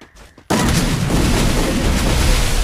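Loud sustained gunfire erupts in a shooter video game after a brief quieter moment, a dense continuous roar of rapid shots that fills the rest of the moment, close and overpowering.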